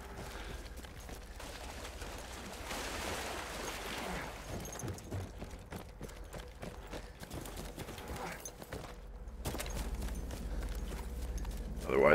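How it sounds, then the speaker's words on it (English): Horse hooves gallop in a quick, continuous clip-clop rhythm in the Battlefield 1 campaign, fairly quiet and mixed with game ambience and occasional distant rumbles. "Let's get back to our horse, of course."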